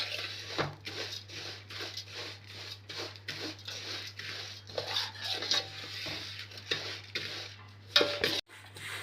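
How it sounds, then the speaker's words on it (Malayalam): Vermicelli is dry-roasted in a pan for semiya payasam and stirred with a spoon, giving a run of quiet, repeated scraping and clinking strokes over a low steady hum, with no talking. "ഇത് കരിഞ്ഞു പോകാതെ നല്ലപോലെ നമുക്കൊന്ന് ഫ്രൈ ആക്കി എടുക്കാം"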